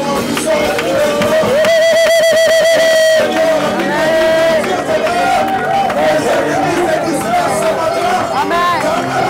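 A church congregation at a Sunday service loudly acclaims and cheers Jesus, a sustained roar of crowd voices with singing and shouts blending together throughout.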